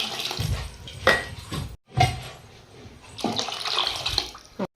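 Water splashes and pours in uneven bursts into a pot of rice for vegetable pulao, with clinks of metal and a brief pause midway; no one speaks.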